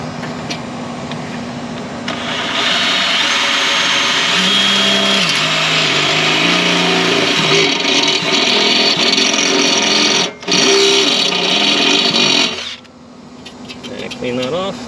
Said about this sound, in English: we're going to come in here and drill out these holes